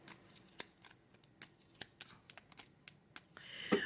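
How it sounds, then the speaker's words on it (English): A deck of tarot cards being shuffled in quick, crisp riffles and taps close by, with a louder flurry of ruffling at the end. "You're watching me shuffle live, my friends."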